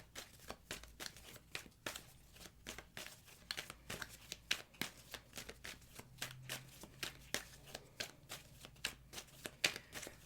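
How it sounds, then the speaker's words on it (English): Tarot cards being shuffled by hand, a steady run of crisp riffling flutters and soft slaps that repeat close up for the whole stretch, with no talking. "let me shuffle a few more times here"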